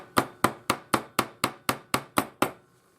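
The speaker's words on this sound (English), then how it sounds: "So just a few taps on that side, turn it over. We just want to set the rivet," Ten crisp, evenly spaced hammer taps ring out close and loud as a rivet is set on a hinged ring, each blow decaying quickly before a brief quiet end.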